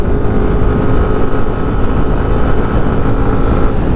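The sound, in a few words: Yamaha FreeGo 125 scooter engine accelerating hard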